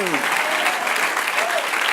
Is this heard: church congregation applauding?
yes